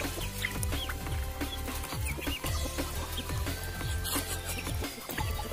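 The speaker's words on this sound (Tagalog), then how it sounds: "Napaka amok ng mga manok." A flock of Rhode Island Red chickens clucks continuously up close, with overlapping short clucks and squawks in an irregular, busy rhythm and no talking.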